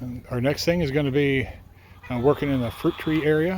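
Laying hens cluck and warble in the background while a person talks over them in the foreground.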